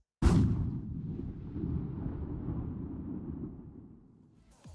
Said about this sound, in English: and a far-away gunshot will sound like this